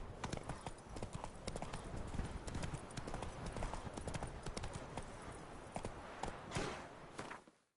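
A horse's hooves clip-clopping at a steady walking rhythm in The Witcher 3 video game, close and busy, rising slightly before cutting off abruptly.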